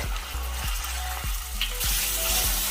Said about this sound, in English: Bring oil to hot, then add in minced ginger